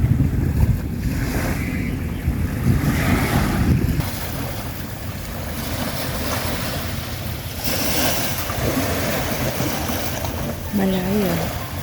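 Ocean waves washing onto a shore, a steady broad rush with surges of surf and heavy wind buffeting the microphone, while a voice speaks briefly underneath near the end.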